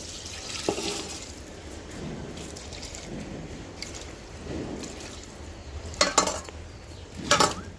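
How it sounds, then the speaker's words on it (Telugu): Faint water splashing and trickling into a pot, with soft clinks of metal cookware and a few sharper clattering knocks near the end. "ఆ నీళ్ళు పోసేసుకుందాం"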